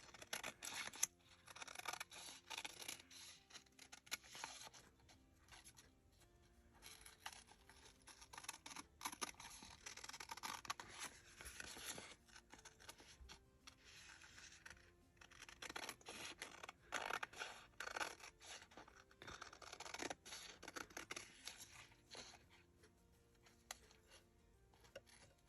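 Scissors snip around the edge of a large paper journal card with printed pages, a quiet run of short crisp cuts and paper rustles in irregular bursts, close up with no talking.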